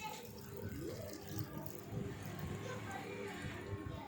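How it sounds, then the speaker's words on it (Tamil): Water bubbles and churns at a steady boil in a pot of drumstick leaf soup, a soft continuous rumble, with a faint voice in the background. "நல்லா கொதிக்க ஆரம்பிச்சிருச்சு."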